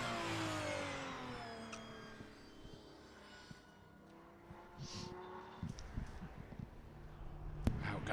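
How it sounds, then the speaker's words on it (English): A Ferrari Enzo pulls out onto a circuit at a live car meet, its engine whirring and revving at moderate distance and fading before a rougher rise. Crowd and track ambience sit beneath it. "It's the Enzo Ferrari making its way out"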